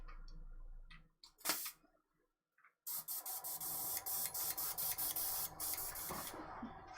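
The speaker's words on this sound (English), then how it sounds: "Now I am going to test the main airbrush that I like using." An airbrush under test hisses in a steady close spray for about four seconds, with a few brief pulses and clicks just before it.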